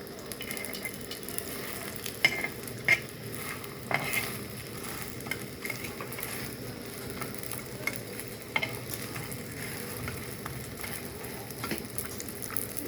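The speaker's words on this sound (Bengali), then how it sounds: "মুড়ে ঘি দেওয়া হবে, দিয়ে ভাজা হচ্ছে" A rolled patisapta crepe fries gently in pure ghee with a soft, steady sizzle close by, marked by occasional light scraping and tapping from a spatula, and no voices.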